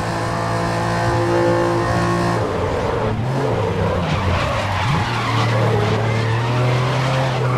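Racing car tyres skid and squeal through a corner in a video game, a sustained screech over a revving engine that shifts pitch as the car slides out with oversteer.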